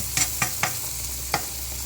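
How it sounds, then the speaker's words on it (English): Onions fry until crispy in a pan, their steady close sizzle broken by four quick scrapes of a utensil, with no voices present. "let those onions kind of get nice and crispy"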